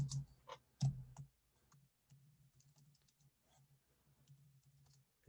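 Typing an answer on a computer keyboard: a few quick clustered key clicks at the start, then sparse, faint, quiet taps in a near-silent room.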